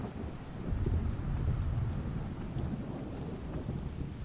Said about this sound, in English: Riding in the rain.